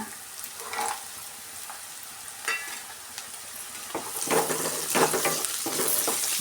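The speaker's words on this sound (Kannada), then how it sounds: "ನೋಡಿ ಗೋಡಂಬಿ ಪೀಸಸ್ಸು ಫ್ರೈ ಆಗ್ತಾ ಇದೆ" Cashew pieces frying in a pan, a steady close sizzle broken by repeated scraping stirs that grow louder and busier toward the end.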